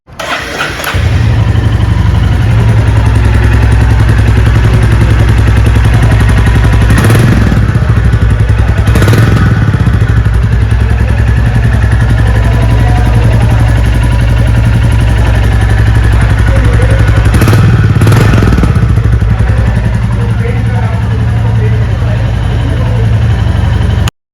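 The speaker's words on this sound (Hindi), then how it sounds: "उससे पहले मैं आपको इस बाइक को स्टार्ट करके दिखाऊंगा" A Royal Enfield Bullet 350 motorcycle engine starts and idles loudly close by, with a steady low thumping beat that continues throughout.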